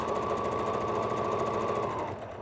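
A sewing machine runs a steady, rapid rhythmic stitch while chain stitching quilt pieces together, close and continuous for about two seconds before slowing at the end.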